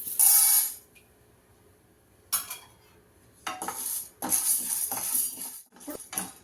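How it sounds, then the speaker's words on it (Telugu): Chana dal dry roasting in a pan for vangi bath powder, with a spoon scraping and clinking against the metal in bursts separated by brief pauses, close and fairly loud, no talking. "శనగపప్పు కూడా ఇట్లా వెర్రగా వేయించుకోవాలండి."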